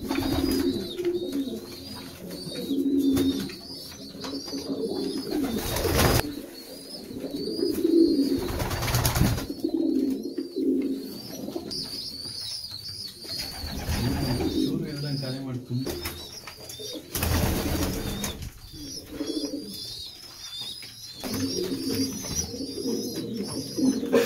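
Racing pigeons in a loft, coo steadily at close range in soft repeated murmurs, joined by scattered chirps and a few brief flaps and knocks, with faint voices in the background.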